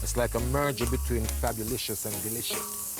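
Marinated jerk chicken sizzles on a barbecue with a steady, bright hiss running beneath someone talking close by.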